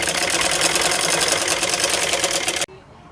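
A sewing machine stitches the side seam of a pant, running in a steady, continuous whir with rapid needle ticking for most of the clip before stopping abruptly near the end.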